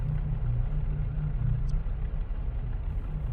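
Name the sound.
engine humming nearby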